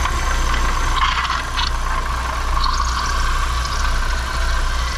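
A GM car engine idles steadily in a mechanic's workshop, a continuous mid-pitched running hum with a faint rattle, loud and close throughout with no talk.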